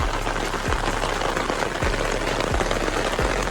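Heavy rain pours down steadily outdoors at a steady, loud, dense hiss, with a few thumps and low knocks breaking through now and then. No one speaks.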